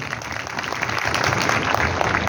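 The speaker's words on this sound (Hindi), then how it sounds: "कृपया एक इनके लिए तालियां तो बजा दीजिए।" Steady, dense audience applause fills a crowded event hall at a mall in Dehradun during a cultural festival, loud and continuous throughout with no pauses.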